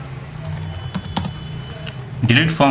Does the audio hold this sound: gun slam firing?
no